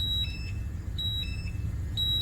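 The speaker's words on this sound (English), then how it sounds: "You can hear the alarm going off." A portable gas monitor sounds its alarm in a hazardous atmosphere, giving repeated high-pitched electronic beeps in a steady rhythm over a low background rumble.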